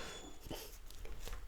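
Dog whimpering in a room, quiet soft whines and breathy sounds in a short burst, faint and close.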